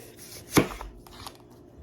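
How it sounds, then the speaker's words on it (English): A kitchen knife cuts through onions on a board, one sharp close chop followed by a fainter second cut, with quiet room tone around them. "we are going to slice up these onions"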